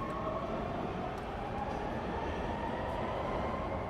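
A subway train in the Street Fighter 6 video game rumbles steadily and loudly, a continuous rolling roar of wheels on track with no distinct breaks.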